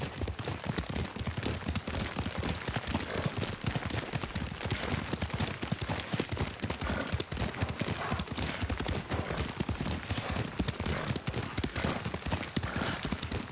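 Steady clip-clop of horse hooves at a brisk gallop in the video game Ghost of Tsushima, continuous and fairly loud, with faint background voices.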